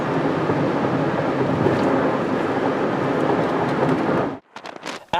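A Honda Insight cruising in fifth gear, a steady broad rumble of engine and road noise filling the cabin for several seconds before cutting off abruptly, followed by a few sharp clicks and knocks.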